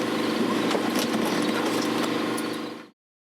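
A helicopter's engine keeps running after landing on a river, with rotor blades still spinning: a loud, steady, close mechanical drone that cuts off abruptly near the end.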